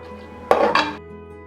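Rice and masala for egg biryani are mixed in a pressure cooker pot: a brief close scrape and clatter of a spoon against the metal, two quick strokes over a faint steady hum.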